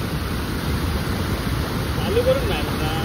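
Heavy unseasonal rain in the Konkan keeps pouring in a dense, even roar, with a voice faintly audible beneath the downpour.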